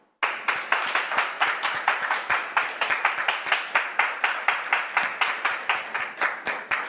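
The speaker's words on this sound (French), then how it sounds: "Et on le reçoit sur ce plateau avec vos applaudissements," A studio audience claps steadily, rapid hand claps blending into sustained applause with no voices over it.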